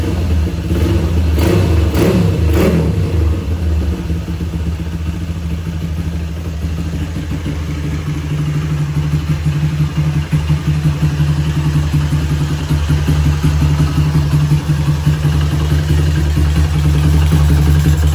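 A CB motorcycle engine built up to 215cc, with BRT T3 camshaft and a stock Tiger piston, idles steadily and loudly nearby with a low, even thrum, a few quick throttle blips near the start, no talking.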